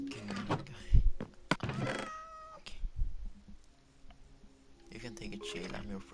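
A cat in Minecraft gives several short meows amid game clicks and thumps, with a person talking in between.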